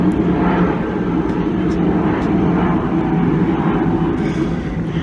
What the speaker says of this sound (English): bloody planes